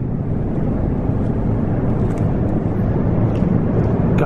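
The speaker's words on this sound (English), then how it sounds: "that's actually from a very huge plane right now that is flying above us." A very large airplane passes low overhead near an abandoned train station at night, making a loud, continuous, broad rumbling roar that fills the whole stretch without easing.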